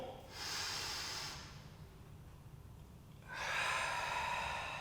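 A person exhales forcefully through the nose and mouth during a mobility stretch, two long breathy rushes separated by a quieter pause, close and fairly soft.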